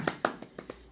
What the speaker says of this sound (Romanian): Și să aplaudăm.